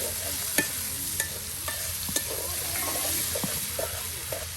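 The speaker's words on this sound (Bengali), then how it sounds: "পেঁয়াজ, মরিচ, তার সাথে রসুন এবং কি গুঁড়ো মশলা সব একসাথে কিন্তু এই দেখুন একদম চুবু চুবু করে তেলে ভেজে নেওয়া হচ্ছে" Onion, chili, garlic and ground spices fry together in oil at a riverside cookout, a continuous bubbling sizzle punctuated by sharp scrapes and taps of a spatula stirring the pan at a steady pace.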